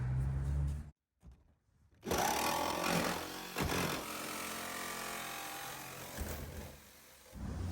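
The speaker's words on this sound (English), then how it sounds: "I can access the roof with my metal bit on the jigsaw. So the only thing left to do at this point is to start cutting." A jigsaw fitted with a metal-cutting bit saws through the sheet-metal roof of a van during a vent fan install, a loud buzzing rasp that runs steadily after a short pause, with no talking.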